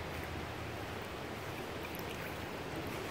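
Creek water at Poricy Brook fossil beds in Middletown, New Jersey, flowing in a steady, close broadband rush that continues unbroken without any talk.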